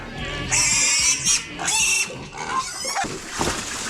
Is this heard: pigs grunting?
yes